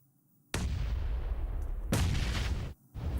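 Heavy booming blasts from grenade explosions and gunfire in PUBG Mobile, on the Miramar map during a professional tournament match; two big, close, rumbling impacts with a brief lull near the end.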